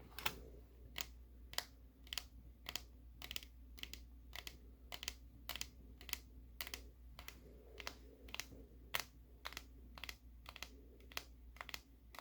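Steady keystrokes clatter on a computer keyboard in an ASMR-style robot repair setting, a dozen or more crisp, evenly spaced taps close to the mic over a low background hum, with no speech.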